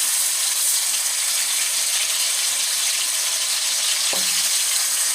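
Lamb chops fry in about a third of a cup of olive oil in a frying pan, giving a steady, dense hiss with a brief low thump partway through.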